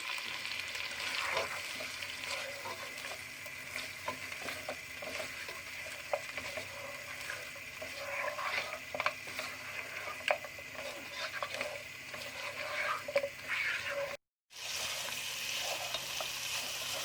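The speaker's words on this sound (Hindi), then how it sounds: "थोड़ा थोड़ा दही डालकर इसको अच्छी तरह भून लूँगी।" Mutton is fried in a pan with yogurt for karela gosht, giving a steady close sizzle broken by occasional scrapes and clinks of a stirring spoon, with no voices.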